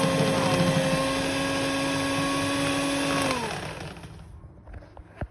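An electric mixer whips egg whites for meringue with a steady, loud motor whine that holds evenly, then spins down and stops near the end, leaving only a few faint clicks.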